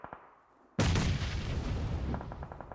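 A grenade goes off with a sudden loud blast in PUBG Mobile after a quiet moment with faint clicks, and the roar rumbles on, followed by a few sharp gunshot-like cracks near the end.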